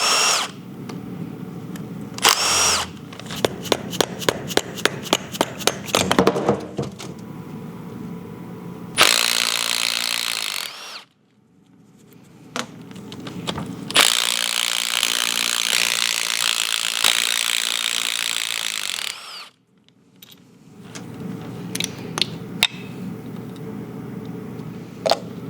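Power tools and a ratchet work on a Can-Am X3 turbo engine to remove the starter, with bursts of rapid impact-gun rattling and whirring separated by short pauses, close and loud.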